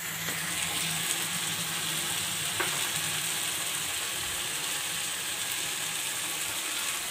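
Capsicum and tomatoes frying in a pan for a gravy appe dish, stirred now and then, giving a steady, close, even sizzle throughout with no talking.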